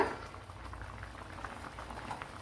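A pot of coconut milk quail egg stew simmers steadily, with soft continuous bubbling and small popping blips throughout, fairly quiet and close by, no voices.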